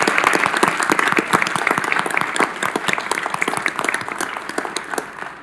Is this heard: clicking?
no